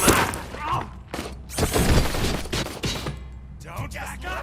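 Loud bursts of gunfire and crashing impacts in RoboCop: Rogue City, repeated volleys with brief pauses between them and voices mixed in.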